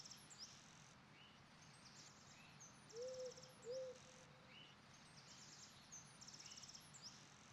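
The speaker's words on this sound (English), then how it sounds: "you can hear the owl" Around dawn, an owl gives two short hoots mid-clip, faint and distant, over a quiet outdoor background with scattered high bird chirps.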